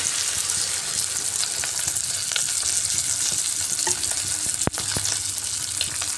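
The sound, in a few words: water poured into hot pan of frying fish curry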